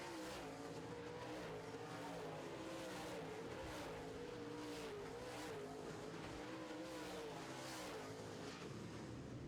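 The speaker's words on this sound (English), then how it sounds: "Good close racing here in your Big FM modified class" Loud roaring engines of modified-class race cars passing in a pack during a feature race, with revving and whining tires, continuous and dense.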